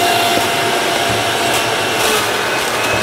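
A powerful juicer motor grinds through collard greens with a loud, close, steady whir. The dense mechanical roar never lets up, and faint rubbing and scraping rise over it now and then.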